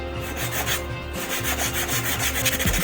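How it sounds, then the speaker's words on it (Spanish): Sandpaper rubs rhythmically against a quad brake lever, steady back-and-forth scratchy strokes, close and alone without talk. "Para mayor rapidez, lijé solo la parte donde se tocan la maneta y el portamaneta."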